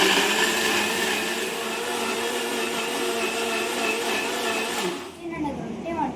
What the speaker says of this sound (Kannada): ಚಟ್ನಿ ರುಬ್ಕೊಳ್ಳೋಣ ಚಿನ್ನ